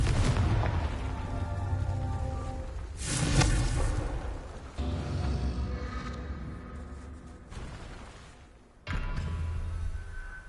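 Confringo blasting spells detonate in Hogwarts Legacy, a game, with several booming explosive bursts rumbling and fading between blasts, loud and close, with no talking.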